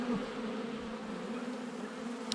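Honeybees buzzing steadily at a hive entrance as foragers return loaded with pollen, a continuous close droning hum with no voices.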